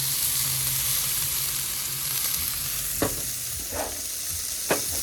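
A New York strip steak sears on a Blackstone griddle with a steady, close sizzle and crackle, broken by a few sharp scraping clicks from a spatula.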